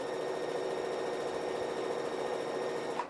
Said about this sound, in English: that's a basic sewing machine these days